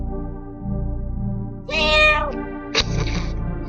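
A cat meows twice up close, one long drawn-out cry followed by a shorter second call, with faint low background hum and no talking.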